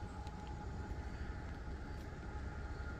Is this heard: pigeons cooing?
no